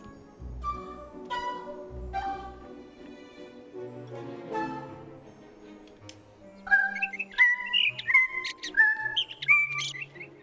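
Bright, high chirping and warbling bird calls from a VR video game, in quick repeated phrases, growing louder and busier in the second half over a low background hum.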